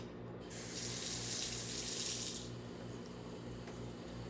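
Water pours in a steady rushing stream for about two seconds, measured out as two tablespoons for Epicure fajita seasoning in a home kitchen, then tapers off into quiet room hum.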